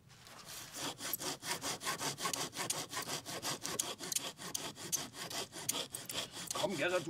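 Hand saw cutting through a wooden log for a pit house build, a steady rapid run of rasping back-and-forth strokes, close and fairly loud, with no talking.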